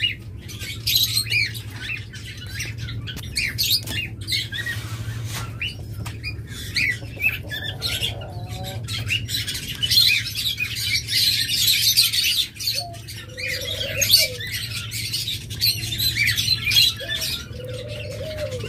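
Diamond doves among other cage birds in a bird shop, with busy overlapping chirps and squawks, scattered short calls and a steady low hum beneath, no talk.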